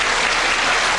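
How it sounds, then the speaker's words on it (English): Applause from the audience at the 1995 World Pool Championship 8-ball match fills the hall in a dense, loud, continuous clatter of many hands clapping, heard alone without voices. "he's getting a big round of applause, Mark Jarvis is, for a gallant battle and a"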